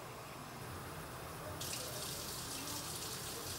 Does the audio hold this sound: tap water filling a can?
yes